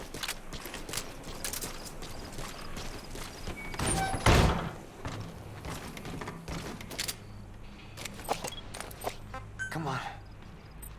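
Horse hooves galloping in Metal Gear Solid V: The Phantom Pain, a steady rhythmic clip-clop running under game sounds, with a heavy thump near the middle and people talking over it.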